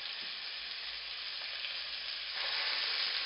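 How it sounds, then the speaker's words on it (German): Beef roulades fry in hot fat in a pan, giving a steady, close crackling sizzle that holds evenly throughout and grows slightly louder near the end. "Und dann braten wir die"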